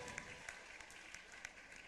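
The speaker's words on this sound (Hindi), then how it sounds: "तालियां बजाकर अनुमोदन करें" An audience applauds in approval at a religious discourse, the clapping coming as dense scattered claps that are fairly faint and distant.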